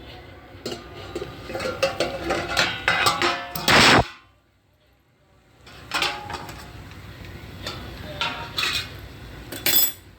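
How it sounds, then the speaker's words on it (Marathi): A metal lid is pulled off a cooking pot of vegetables steamed in oil, giving a loud close clatter of metal, then a quiet pause and lighter clinks and scrapes of cookware. "आता झाकण काढायचं."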